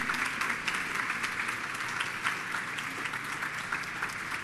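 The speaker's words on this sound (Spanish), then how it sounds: "Aplaude fuerte a Dios." A church congregation applauding loudly, sustained dense clapping from many people at an even level throughout, without voices over it.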